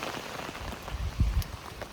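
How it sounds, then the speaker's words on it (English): Early rain ahead of a hurricane's landfall, a steady soft patter of raindrops on a surface, close and continuous, with a couple of brief heavier drips. "We're getting like the precursor rain right now, I guess."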